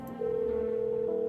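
A telephone number dialed in the video game No I'm Not a Human, heard as a steady electronic tone that holds clearly on its own after a brief softer start.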